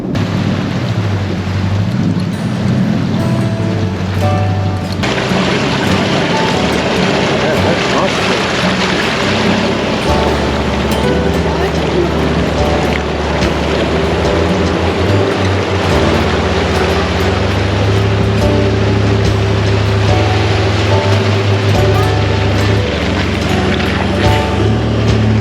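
A 4WD fords a creek crossing near Sandy Creek Falls in the Northern Territory, with a steady loud rush of churning water and a low engine rumble that runs unbroken for the whole stretch.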